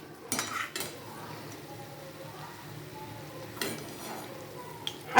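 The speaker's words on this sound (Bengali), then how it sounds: "আমি এবার এগুলোকে তুলে একটা পাত্রে রাখবো।" Fried flower fritters are lifted from the pan into a bowl with a few clinks and scrapes of a utensil against metal over a faint background sizzle, nearby and fairly quiet.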